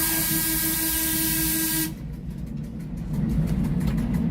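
Railway train passing a level crossing where a police car has stopped, a loud broadband rumble with a steady whistle-like tone that cuts off abruptly, leaving a lower, rougher rolling rumble of the cars.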